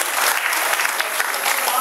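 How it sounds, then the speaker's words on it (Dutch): Dense, steady applause from a school audience at a graduation ceremony in Zellik, Belgium, filling the room evenly without breaks. "Een applaus voor ons Caroline."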